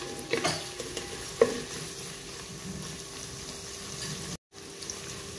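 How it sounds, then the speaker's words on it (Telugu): Sliced onions frying with a little salt in a pan for egg pulao, a soft, even sizzle with a couple of light stirring knocks early on, quiet and close, with a brief dropout near the end. "కొద్దిగా salt వేసుకొని మనం ఉల్లిపాయలు వేయించుకుంటే చాలా తక్కువ టైం లో మనకి తొందరగా ఉల్లిపాయలు అనేది"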